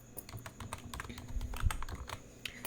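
Rapid clicking keystrokes on a computer keyboard as an email address is entered into an online recruitment form, a steady close-up patter of quiet taps with no voices.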